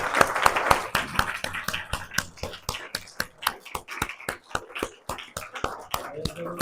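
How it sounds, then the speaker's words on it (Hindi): A church congregation at a Sunday service claps along in a steady, regular rhythm, sharp hand strikes repeating roughly every third of a second at moderate loudness, with some voices mixed in underneath. "और एक बार यीशु मसीह को जोर से ताली"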